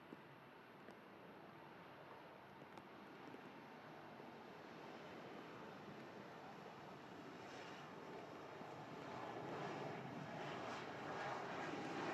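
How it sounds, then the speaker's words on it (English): A KLM Embraer E2 jet bound for Amsterdam Schiphol at Manchester Airport, its engine roar broad and steady, swelling gradually louder toward the end as the aircraft draws nearer, with no talk. "Amsterdam Schiphol bound E2 of KLM, going back to base."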